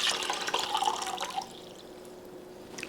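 Water pours into a small 2-quart crock pot with a splashy, trickling rush that tapers off midway, leaving faint drips and quiet.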